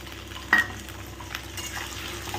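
Diced potatoes fry with soft onions over a low flame, giving a quiet steady sizzle with one sharp utensil clink early and a few light stirring scrapes.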